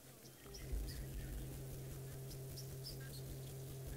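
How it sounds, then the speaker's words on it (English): Ashy flycatcher calls outdoors on a safari, heard as faint, scattered high chirps over a steady low hum and soft background noise. "I wonder if you can hear that ashy flycatcher."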